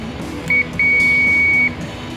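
A multimeter on the diode/continuity buzzer setting, probing a horizontal transistor in an LG Ultra Slim TV, gives a short beep followed by a longer steady beep, loud and close with no talk.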